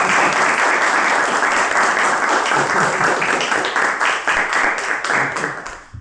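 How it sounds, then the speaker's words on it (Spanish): A presentation audience in Resistencia, Chaco, breaks into dense, sustained applause at close range, steady and loud throughout before thinning slightly at the very end. "un aplauso grande para"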